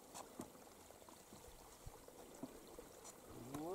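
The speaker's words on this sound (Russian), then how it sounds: "вода течет" Water running near a small bridge and sluice, a soft steady trickling and pouring under faint splashes and footsteps, fairly close and quiet throughout.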